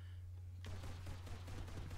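Rapid video-game gunfire from the mech shooter Meka On bursts in suddenly and keeps rattling as a dense, continuous stream of shots over a steady low hum, fairly quiet overall.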